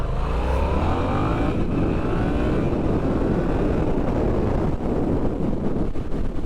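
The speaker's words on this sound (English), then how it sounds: "I'm going to leave you guys with a first gear acceleration" Yamaha XSR700 motorcycle pulling away hard in first gear, its engine note loud and continuous beneath heavy wind buffeting for the whole stretch.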